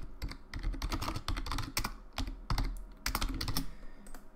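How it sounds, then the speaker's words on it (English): Rapid keystrokes on a computer keyboard as a line of code is typed, a close, busy clatter of uneven bursts with brief pauses. "let me just write a dummy line of code here"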